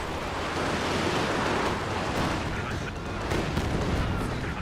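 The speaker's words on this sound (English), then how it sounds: "Here comes the Panzerwerfer barrage" A Panzerwerfer rocket artillery barrage in Company of Heroes 2, a dense continuous roar of rumbling blasts and rushing noise, loud and unbroken for several seconds.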